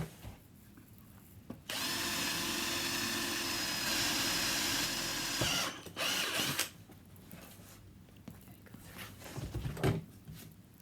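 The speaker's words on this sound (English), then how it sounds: "I'm going to drill 2 more holes just to make sure that we don't have a problem" A power drill whirs steadily for several seconds drilling holes in a barstool seat during upholstery work, stops, then gives a short burst, followed by quieter handling clatter.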